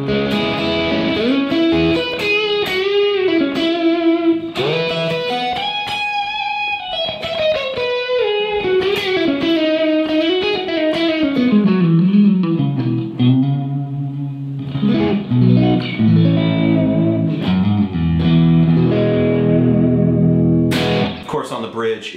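Lead electric guitar through a Kemper amp, loud singing sustained notes with bends and slides weaving up and down, then chunkier chord work in the second half, played alone without talk.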